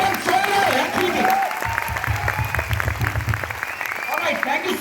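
Hands clap in a quick, crackling burst of applause that runs continuously beneath a man's ongoing speech.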